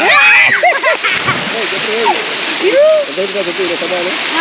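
Splashing water in a village well as people jump and swim, sloshes and slaps under loud, excited shouting and chatter from several voices close by.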